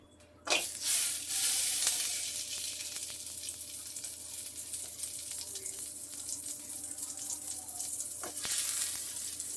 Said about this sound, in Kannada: ಸೊ ಇವಾಗ ಬಂಡ್ಲಿ ಇಟ್ಕೊಂಡು ಬೆಣ್ಣೆ ಹಾಕೋತಾ ಇದ್ದೀನಿ